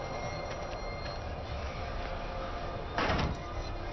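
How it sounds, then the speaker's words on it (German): A door slams hard in the horror video game Outlast 2, one loud, sharp thud standing out near the end over a steady, rumbling ambient drone. "Ja, mach die Tür doch einfach noch ein bisschen lauter zu."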